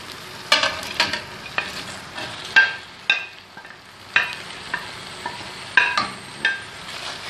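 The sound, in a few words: chicken added to tomato masala, frying and stirring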